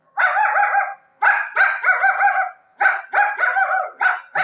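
A voice imitates a dog, giving a run of about eight loud close barks in quick bursts with short gaps, alone with no other sound.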